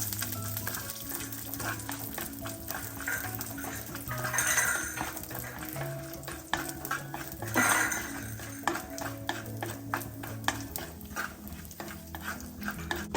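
Peanuts, almonds and raisins are sautéed in a pan, with steady close stirring, scraping and metal clinks repeating throughout and a faint sizzle underneath.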